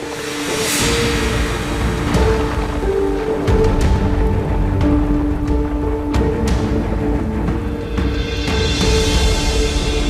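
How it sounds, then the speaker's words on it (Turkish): Steady heavy rain pours continuously with a dense hiss, and a low rumble runs underneath; no voices. "Gece yağmurdan korkarım. çok şiddetli yağıyor."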